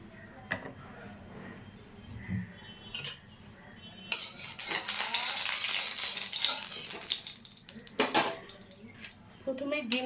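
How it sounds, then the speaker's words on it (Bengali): An egg drops into hot mustard oil in a wok and breaks into a loud, steady sizzling hiss after a few quiet clinks of a utensil, with someone speaking throughout. "প্রথমে ডিমটাকে ভেজে নিচ্ছি।"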